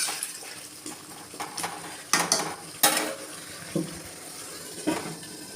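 Potatoes and spices cook in a covered pan with added water, with intermittent clinks and scrapes of a utensil against the pan and lid, and soft bubbling and hissing between the sharper knocks.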